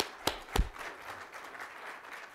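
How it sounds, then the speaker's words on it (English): Faint scattered clapping from a conference audience thanking a panel, opening with a couple of sharp hand claps before settling into a thin, steady patter. "let's give our panelists a big round of applause"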